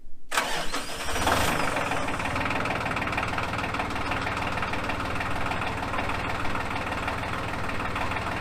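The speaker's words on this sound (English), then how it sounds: "Alright, tractor started." A tractor engine cranks for a moment, then catches and roars to life, settling into a loud, steady, rumbling idle that runs on alone.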